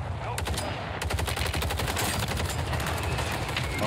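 Rapid automatic gunfire in Call of Duty on Rebirth Island, a dense, sustained burst of SMG shots crackling close and loud throughout, with a brief pause near the start.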